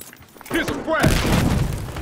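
Frag grenade blast in Battlefield Hardline on a Hotwire server, with a short yell, then a loud booming explosion followed by lingering rumble and debris, voices mixed in.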